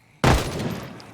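A single loud burst of gunfire in the zombie survival game Project Zomboid, with a sharp attack and a short decaying tail.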